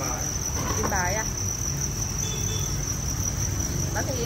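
Crickets in a cricket box on a farm chirp in a constant, shrill, high-pitched drone, loud and unbroken, while a voice briefly speaks underneath at moments.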